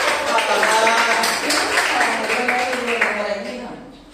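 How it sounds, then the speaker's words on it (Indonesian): Group applause in a classroom teaching session, a loud, continuous wash of clapping for about four seconds with a few voices mixed in, tapering off at the end. "tepuk tangan dulu untuk kita"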